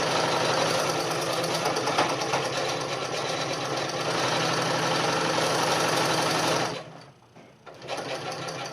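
A sewing machine stitches a basic fabric mask at speed, a steady, close mechanical whir and rapid needle chatter that runs continuously before abruptly stopping near the end, then resuming faintly.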